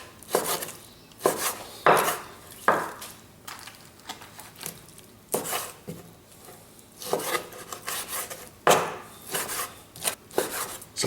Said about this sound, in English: I'm going to chop it into pretty decent sized chunks